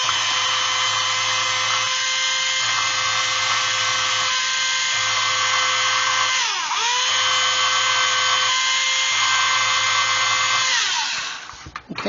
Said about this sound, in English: this is about a 5mm ball cutter